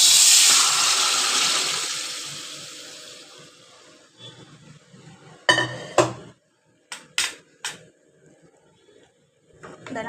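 Cooked mutton for kurbani salt-meat curry is scraped from one vessel into a kadai, with a rush of liquid at first, then several sharp metallic clanks and scrapes of a spoon against the pans.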